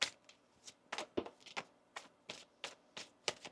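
A deck of tarot cards being shuffled by hand, a series of short crisp riffling bursts in an uneven rhythm, close and fairly quiet, with no talking.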